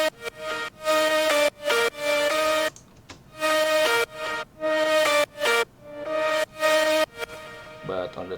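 An electronic dance music drop melody from a track plays in choppy bursts of bright synth notes separated by short gaps, loud and with no voices over it.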